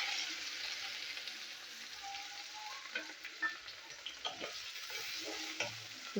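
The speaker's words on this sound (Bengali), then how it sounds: "পেঁয়াজটা একটু ভেজে নেবো।" Chopped onion frying in hot oil tempered with cumin and cinnamon, a soft steady sizzle with light scraping and stirring taps growing more frequent toward the end.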